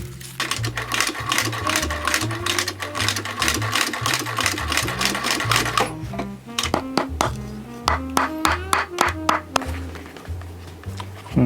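A sewing machine stitches a beige-olive leather shoe lining at the heel for a cordovan bespoke shoe, running in steady rapid bursts with short pauses and metallic clinks between runs.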